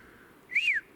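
A single short whistle, rising then falling in pitch, sounds clearly against a quiet background.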